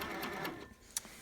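A sewing machine does free-motion quilting along a seam line, giving a faint, fast mechanical whir that fades partway through and ends with a sharp click.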